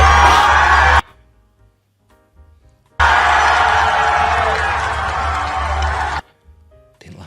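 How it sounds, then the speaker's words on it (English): A crowd at Star Wars Celebration 2023 cheers and whoops in a played-back video, two loud bursts of roaring cheers separated by near-silent gaps where playback cuts out. "Let's listen to the crowd go mental."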